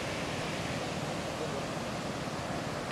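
Strong surf at Liwliwa beach in Zambales roars as a dense, continuous wash of breaking waves, steady and loud throughout with no distinct pauses.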